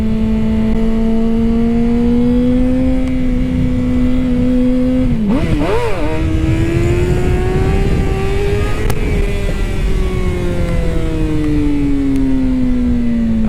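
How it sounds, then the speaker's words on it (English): A motorcycle engine holds a loud, steady idle-to-mid rev, then surges and dips sharply as the clutch is dumped to lift the front wheel, before settling back into a continuous close drone; no talking. "So it's a rev, dump, and then that front wheel will come up."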